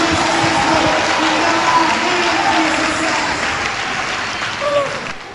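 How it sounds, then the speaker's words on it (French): A church congregation claps together in a thick, sustained wash of applause, loud and steady throughout, with a voice faintly audible beneath it. "Acclamez quelqu'un qui a réussi"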